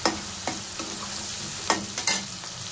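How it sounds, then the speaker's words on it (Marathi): Onions sautéing with salt in hot oil give a constant close sizzle, punctuated by several crisp scrapes as they are stirred around the pan. "व्यवस्थित कांदा त्याच्यामध्ये मिठामध्ये परतून घ्यायचा आहे"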